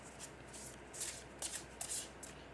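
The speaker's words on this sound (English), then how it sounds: "Okay, just one more quick shuffle." A deck of tarot cards being shuffled, a few quick riffling bursts in a quiet room, soft and close with no speech.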